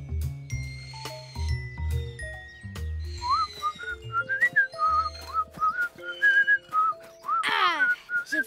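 Whistling made by blowing into juice boxes, a series of wobbly, sliding pitched whistles and squeaks coming in short bursts, some overlapping, with low buzzy tones early on and a sharp downward swoop near the end.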